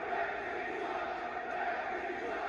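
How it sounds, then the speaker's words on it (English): A wrestling arena crowd roars in a steady, dense wash of cheering, continuous and loud, filling the whole space. "Listen to the crowd."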